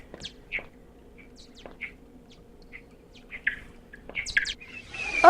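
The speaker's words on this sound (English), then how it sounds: "Oh, they're bats." Bats squeak in a cave in the video game Depths: a scatter of short, high chirps spread over several seconds, some clustered near the end, set against a faint low background hum, with no talking.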